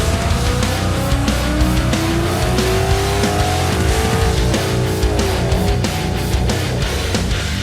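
A Ford Mustang GT engine runs hard on a power test, a loud, close, continuous roar whose pitch climbs steadily as it revs up, with no talking.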